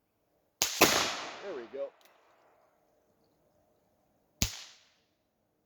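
Percussion caps fire on a .44 black powder revolver, a sharp close crack followed by a second shot about four seconds later, with someone speaking briefly between them.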